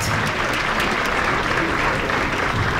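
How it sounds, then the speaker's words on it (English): A packed room of attendees at a Martin Luther King Jr. memorial breakfast claps steadily, with dense, loud applause throughout. "give yourselves a round of applause"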